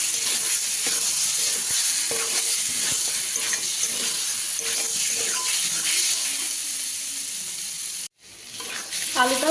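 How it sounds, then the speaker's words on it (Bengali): Potatoes sautéing with spices in a pan for a mushroom curry: a steady close sizzle with stirring scrapes, broken by a brief drop near the end. "আলুটাও কষানো হয়ে গেছে মশলার সাথে ভালোভাবে"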